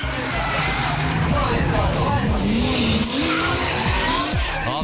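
Drift cars sliding through a turn at a New Zealand import car event, tires squealing and skidding in long rising and falling wails over loud engines and crowd noise.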